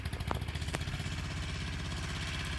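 A tractor engine runs steadily close by during a farm training session, a low rhythmic chugging pulse throughout with a brief clatter early on.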